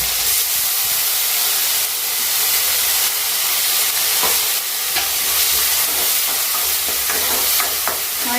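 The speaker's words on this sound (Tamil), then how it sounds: "பட்டை, லவங்கம், கிராம்பு, சோம்பு எல்லாம் போட்டு தாளிச்சிக்கிட்டு ஒரே ஒரு பச்சை மிளகாய்." Whole spices such as cinnamon, cloves and fennel tempering in hot oil for biryani: a loud, continuous sizzle and hiss with faint stirring clicks, no talking.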